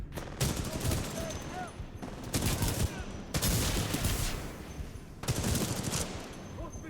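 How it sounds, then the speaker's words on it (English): In Titanfall 2, a robot mech lays down covering gunfire in repeated bursts of rapid automatic shots, loud and close, separated by short pauses, with a voice talking faintly underneath. "My robot is helping. Look, he's like laying down covering fire."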